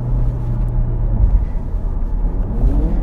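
Steady low engine rumble from an Audi TT Coupe 2.0 TFSI quattro on the move, a continuous droning growl with road noise and no talk.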